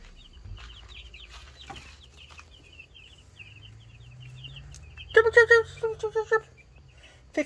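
Meat chickens cluck softly under a faint, continuous background hum, then break into a burst of several loud, close clucks near the end.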